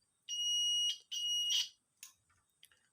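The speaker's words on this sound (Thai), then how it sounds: "ถ้าเราเอาขั้วสองขั้วมาแตะกันนะครับ มันจะมีเสียงครับ" A multimeter's high continuity-test beep sounds twice in quick succession as its two probes touch, followed by a few faint clicks and taps.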